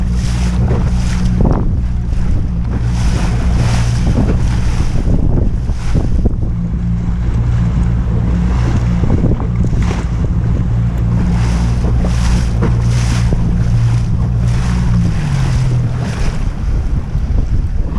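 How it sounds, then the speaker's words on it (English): Wind gusts buffet the microphone over steady water and wave wash while sailing a small boat, with a low engine-like drone beneath; loud, continuous, and free of talk. "So the wind is all over the place right now."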